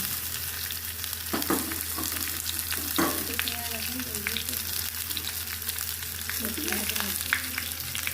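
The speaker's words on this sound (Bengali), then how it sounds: "এটা আমি ভেজে নেব পেঁয়াজগুলো দিয়ে দেবো" Garlic, dried and green chillies, and onions fry in a pan with a strong, steady sizzle, punctuated by several close scrapes and clatters from stirring.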